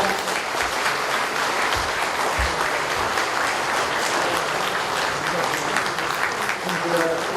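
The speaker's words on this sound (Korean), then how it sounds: "여러분 뜨거운 박수를 보내주시기 바랍니다" Loud, continuous applause from an audience at a patriotic forum in a Seoul hotel hall, greeting a donation presented to a speaker, dense clapping throughout with no pause.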